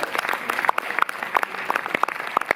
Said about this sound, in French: on peut s'applaudir très fort